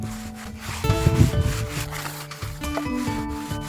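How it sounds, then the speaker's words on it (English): Wooden planks being sanded by hand, a rough scratchy rubbing in quick back-and-forth strokes, close and fairly loud, with a steady tonal hum running underneath. "I gave the planks a good sanding"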